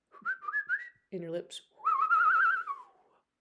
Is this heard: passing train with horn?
no